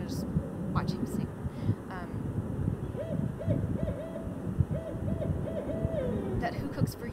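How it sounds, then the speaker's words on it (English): A barred owl gives its rhythmic hooting song over a windy, rumbling outdoor background, a series of clear hoots in a rising and falling phrase, with faint other noises around it. "Another species we definitely know has dialects is the barred owl."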